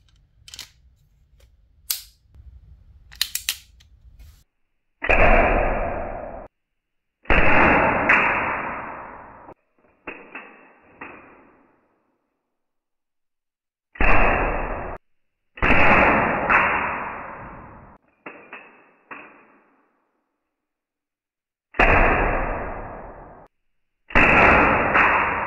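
Steel 4.5 mm BBs fired from a BB revolver at safety glasses: a series of sharp, loud cracking shots, about eight of them at irregular intervals, each with a short decaying tail, with faint clicks at the start and no talking.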